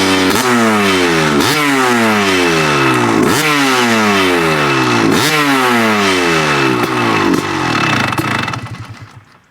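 A factory-style two-stroke motocross bike engine runs close and loud, revving up in repeated rising surges about every two seconds with a raspy, buzzing tone, then dropping off and fading near the end.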